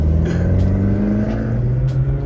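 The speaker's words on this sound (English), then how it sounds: "It sounds like a Koenigsegg or something, like the V8 with the twin turbos." A twin-turbo V8 swapped into a BMW E92 M3 with a stick shift, rated at over 850 horsepower, holding a loud, steady throaty rumble close by with no talking.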